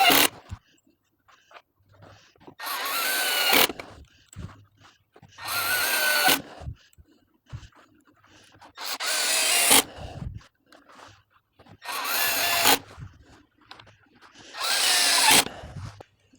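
Power drill driving screws into boards on a Worx Pegasus work table, heard as five loud whirring bursts of two to three seconds each, separated by quiet pauses, close by with no talking.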